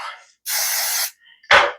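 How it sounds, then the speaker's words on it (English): Cooking spray hissing from a can onto hands while making gluten-free stromboli, a short burst, a longer sustained spray of about half a second, then a brief sharp third burst, close and loud. "spray on my hands"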